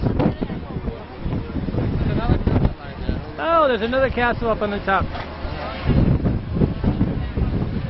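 Strong wind buffets the microphone with a low, gusty rumble while people talk over it, and one voice calls out in a sing-song way midway.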